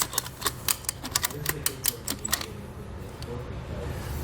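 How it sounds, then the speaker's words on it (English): A lever ratchets down Konig K-Summit tire chains on a 2019 Chevrolet Equinox, giving a quick run of sharp, close clicks for about two seconds before fading to quiet handling noise. "we're just going to start ratcheting down our chains until they're nice and snug"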